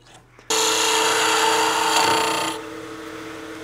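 A wood lathe turning a wooden cigar case, a steady loud whirring hum that starts abruptly, holds, then drops to a quieter spin-down drone.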